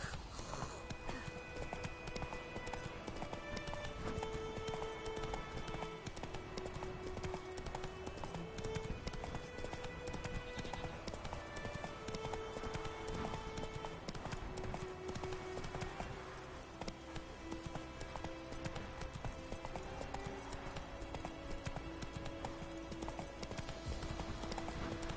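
Hoofbeats of Roach, a horse in a video game, clip-clop steadily throughout over game music, with no talking.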